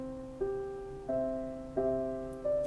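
Rhythmic audio loop playing solo in Ableton Live with Complex warp mode, four evenly spaced tonal hits with clear harmonic chords that ring and decay between each strike, fairly quiet.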